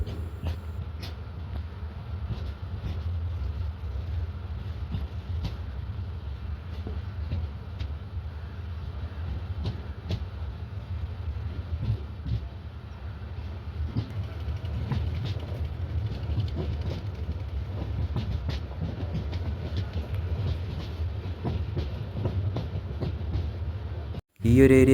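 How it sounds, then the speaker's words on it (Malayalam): Rumbling from inside the Himsagar Express passenger train as it runs on the rails after leaving Thiruvananthapuram South, a steady low roar with faint rhythmic clatter, ending in a sudden loud burst. "തിരുവനന്തപുരം സൗത്തിൽ നിന്നും ഹിംസാഗർ എക്സ്പ്രസ് അങ്ങനെ എടുത്തിരിക്കുകയാണ് ക്രോസിംഗ് ഒക്കെ കഴിഞ്ഞിട്ട്"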